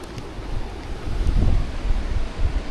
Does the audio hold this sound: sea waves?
yes